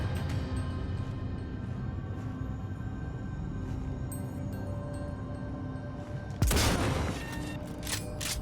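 A single sharp sniper rifle shot rings out in Cyberpunk 2077, a loud broadband crack near the end that stands out above steady game ambience and a low background hum.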